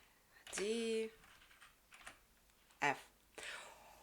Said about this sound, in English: Just type in what you're looking for in the search field.